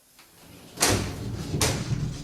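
A broken door is lifted and slid shut, giving a heavy scraping rumble followed by two knocking impacts, close and fairly loud, with no talk.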